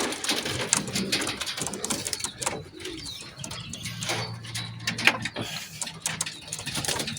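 Pigeons coo repeatedly close by, soft throaty calls over outdoor noise, with occasional wing flaps and light chirps.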